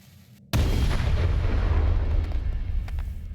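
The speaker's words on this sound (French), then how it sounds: "Est-ce que si je mets une bombe là, ça va creuser ou pas?" A bomb goes off to dig through rock in a mining video game, a sudden loud boom whose deep rumble hangs on and slowly fades over the next few seconds, with no talking.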